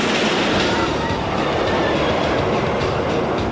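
A roller coaster train is hauled up its first hill by a chain lift, a dense continuous mechanical rumble and rattle, loud and close, holding steady throughout with no pause.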